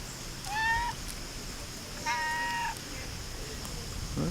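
A pet cat meows twice outdoors near a tree, two clear drawn-out calls about a second and a half apart, fairly close, with a faint breathy background.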